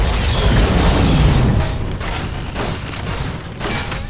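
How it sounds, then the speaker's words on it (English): Gunfire and explosive booms in the video game Fallout: New Vegas, a dense, loud barrage of shots and blasts that rolls on continuously without letup. "Okay, I think I gotta shoot at it."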